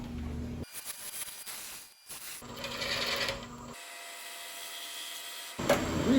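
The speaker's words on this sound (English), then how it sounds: "Plunge cut that with a parting tool." A parting tool plunge-cuts into wood spinning on a lathe, giving a faint, rough scraping hiss that starts and stops in several short stretches with gaps between.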